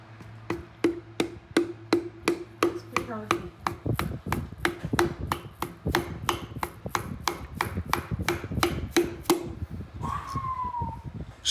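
Hand tapping threads into a Honda B18C/GSR engine block: a steady run of crisp ratcheting clicks, about three per second, close and even, with low mechanical rubbing underneath.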